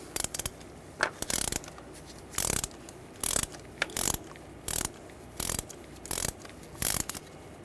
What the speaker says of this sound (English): Loosen the plug up.